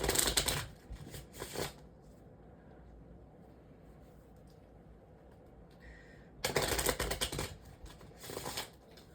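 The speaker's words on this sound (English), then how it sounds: "I'm just gonna shuffle my cards" Two bursts of rapid riffling card shuffles, close and crisp, separated by a quiet stretch of faint room noise.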